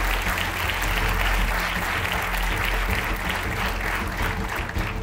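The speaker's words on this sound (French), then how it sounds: "Je vous propose d'applaudir nos 4 nommés dans la catégorie Conseil" A large awards-ceremony audience applauds continuously, dense clapping filling the room at a steady, loud level throughout.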